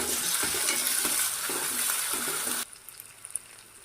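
Ginger garlic paste fries in oil for a chicken drumstick curry, with a loud, close sizzle and stirring scrapes. The sizzle cuts off abruptly near the end, leaving only faint clicks.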